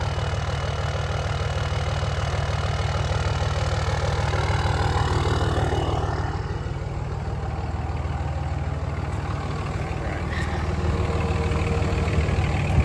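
A 2003 Dodge Ram 2500 pickup with the 5.9 Cummins diesel idles steadily nearby, a continuous low, even clatter and rumble that holds a constant pace throughout, with no voices over it.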